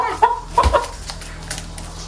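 A chicken clucks close by in a few short, throaty bursts, followed by quieter scattered clucks over a low background hum.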